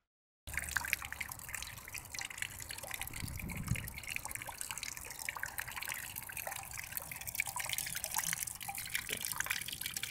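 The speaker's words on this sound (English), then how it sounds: "A nice steady flow of water." Water runs in a steady, continuous flow from apartment plumbing, a soft trickling and splashing hiss that holds even throughout, close and fairly quiet, with no speech.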